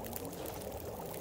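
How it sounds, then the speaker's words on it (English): Water is drunk in The Long Dark survival game, a soft gulping, pouring wash lasting about a second, fairly quiet and close with no speech over it. "Let's drink most of the water that we need."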